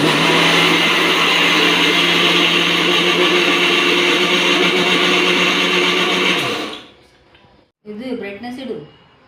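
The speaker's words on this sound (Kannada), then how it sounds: "ಇದಿಷ್ಟು ಮಿಕ್ಸರ್ ಹಾಕ್ತೀನಿ ರೀ" A kitchen mixer grinder whirs loudly and steadily at close range for several seconds, then cuts off abruptly, followed by a brief whine and fainter sounds.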